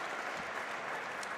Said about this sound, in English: we can give that a clap